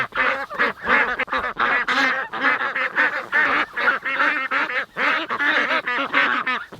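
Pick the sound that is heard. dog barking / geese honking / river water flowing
geese honking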